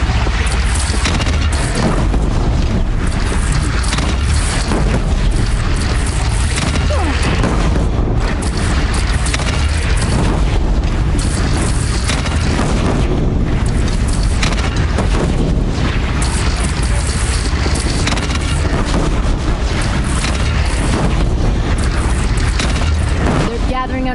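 Cannon fire and explosions boom repeatedly through a battle in the video game Horizon Zero Dawn, a loud, dense barrage that continues throughout with voices mixed in.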